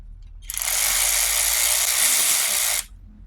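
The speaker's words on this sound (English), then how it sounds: "So now I'm gonna hook that up to my power ratchet." A power ratchet drives the motor mount bolts on a 2007-2012 Nissan Altima in one steady high-pitched whirring burst lasting about two seconds. It is loud and close, with no talking over it.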